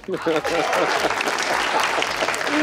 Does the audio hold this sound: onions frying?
no